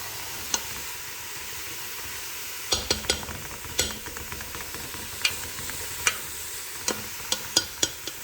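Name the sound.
stirring bean soup ingredients in a pot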